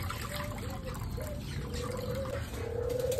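Water poured by hand into a box holding cockatiels, a steady close trickle with faint bird chirps through the background.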